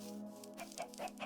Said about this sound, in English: Let's just breed some of these chickens actually.